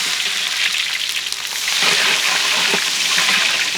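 Onions frying in pure ghee with whole garam masala spices in a pan for Mughlai mutton curry, a steady loud sizzle and crackle that runs on without a break.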